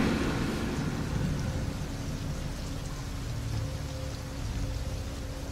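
Steady rain falls through the night in Brazil, a dense, even hiss of drops on hard surfaces with a low rumble underneath, continuous and fairly loud with no voices.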